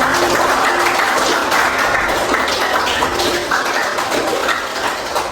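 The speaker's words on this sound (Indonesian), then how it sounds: "kasih tepuk tangan dulu" A class of students applauds after coffee-making presentations, steady dense clapping filling the room throughout with no talk over it.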